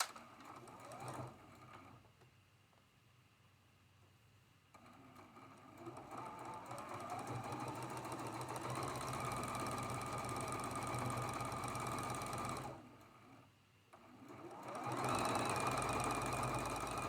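A sewing machine stitches the final seam of a traditional Grandmother's Cross quilt block, running in long steady bursts with a brief pause early on and another near the end.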